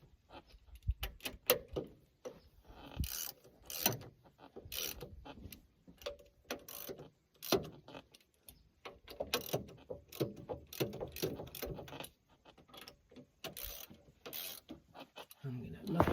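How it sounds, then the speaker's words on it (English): Ratchet tightening bolts on a brake seal assembly of a 310 SK: quiet clicking bursts and short metallic ratcheting strokes in irregular runs, separated by pauses and handling noises, close by. "Tighten them all in some kind of order here"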